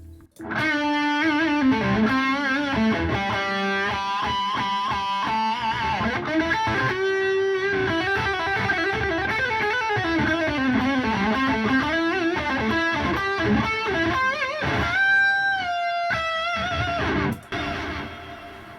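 Overdriven electric guitar through a Boss GT-100 multi-effects unit, with delay and a little reverb, plays chords and riffs with echoing delay trails, dense and sustained, with a ringing held note near the end.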